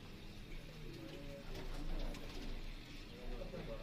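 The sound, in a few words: pigeon cooing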